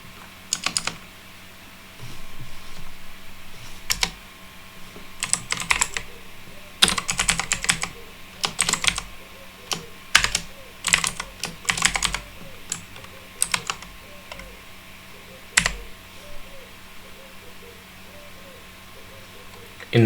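Fingers type code on a computer keyboard in irregular bursts of crisp, close key clicks separated by pauses, while a voice speaks faintly underneath at times.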